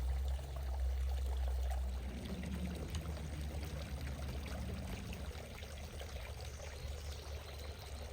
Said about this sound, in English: just listen to the sound of water